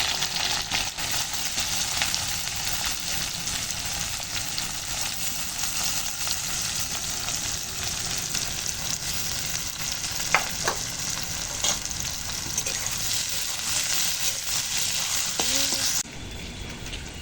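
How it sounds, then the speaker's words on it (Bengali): Onions fry in oil left over from frying potatoes, giving a loud, continuous close-up sizzle with faint stirring scrapes throughout that drops in level near the end. "এই আলুর দমের আলুটা ভেজে তুলে নিলাম ওই তেলেই পেঁয়াজ দিয়ে দিলাম"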